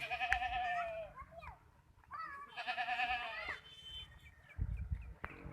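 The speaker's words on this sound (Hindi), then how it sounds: "ये देखो खस्सी बकरा" Several goats bleating in loud, wavering calls near a livestock sale pen of castrated male goats, two long bleats separated by a pause, with faint background voices and low thumps.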